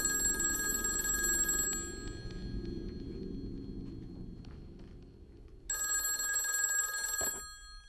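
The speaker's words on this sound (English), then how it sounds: "remembers the days when a ringing phone eventually had to be answered" An old telephone with archaic buttons rings loudly in a bright, sustained electric bell burst, falls quiet amid low room rumble, then rings again before stopping.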